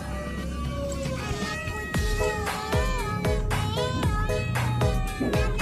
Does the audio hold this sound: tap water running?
no